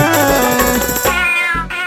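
A cat-like meow rings out amid a busy, loud Bhojpuri song arrangement, sitting tight within the dense music for nearly two seconds.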